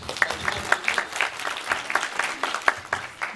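Applause from an audience at a film premiere, steady overlapping clapping with a few sharper individual claps, moderately loud and fairly close, with no talk over it.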